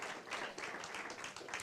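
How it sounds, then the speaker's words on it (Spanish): Church congregation giving a strong round of applause during a service, a quiet but dense patter of many hands clapping continuously, heard from a distance. "Denle un fuerte aplauso al Señor"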